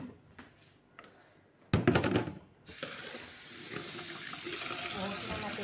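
Water runs steadily from a kitchen faucet into a sink, a broad constant rush that starts abruptly after a short burst of clatter and continues to the end.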